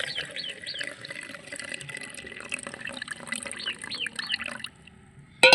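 Water drains from a container of seeds being washed for seed saving, with the floating immature seeds poured off. It is a steady, moderate trickle that thins out near the end, then a brief sharp splash.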